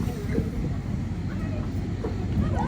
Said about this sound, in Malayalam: നമ്മുടെ ട്രെയിൻ വന്നുകൊണ്ടിരിക്കുകയാണ്.